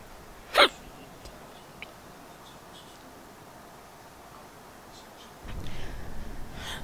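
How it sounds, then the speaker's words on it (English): A single sharp hiccup bursts out once near the start, loud and close, over quiet room hum while playing the PC game State of Decay: Lifeline, and a low steady rumble swells up near the end. "Oh, I have the hiccups now."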